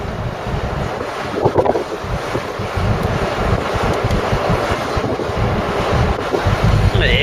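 Ocean waves and surf roll onto a Devon beach under strong gusting wind buffeting the microphone, a loud continuous wash with repeated breaking surges close by.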